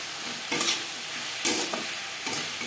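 Fish curry masala with salt and turmeric being stirred in a pan, three distinct scraping strokes over a soft continuous sizzle, close and fairly quiet.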